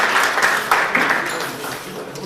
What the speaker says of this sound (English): So please give a big round of applause for St. Jude's Hospital, which was founded by Danny Thomas,